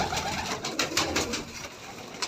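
Pigeons in a flock of about sixty birds, blue-winged, chestnut-winged and black-winged, coo and flutter close by in a steady, dense chorus with no talking.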